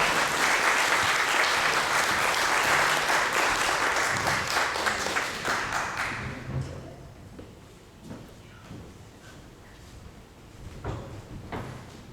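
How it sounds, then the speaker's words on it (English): Loud crowd applause fills the first half, then fades out, leaving a quiet room with scattered clicks and small knocks. "Let's give her a round of applause."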